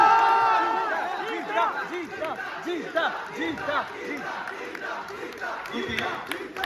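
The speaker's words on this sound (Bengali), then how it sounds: "একটা জোরে জোরে জোরে চিৎকার, হাততালি" Loud crowd shouting and cheering at a film trailer launch event, with some clapping mixed in, continuous and dense throughout with voices rising over one another.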